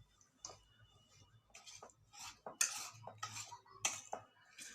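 A spoon mixing banana fritter batter with cinnamon powder in a bowl, quiet irregular clinks and scrapes of metal on the dish, close and alone.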